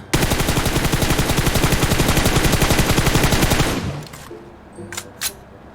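Loud, rapid automatic gunfire from PUBG Mobile runs as a dense continuous burst for nearly four seconds, then cuts off and leaves a few faint clicks and clinks.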